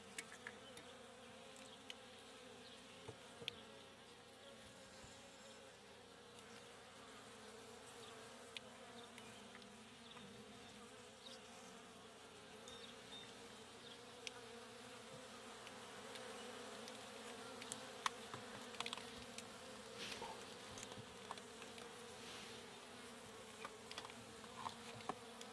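Honeybees drone steadily around an open Langstroth hive during a frame transfer to Layens, a soft continuous hum with occasional nearer individual bees buzzing past.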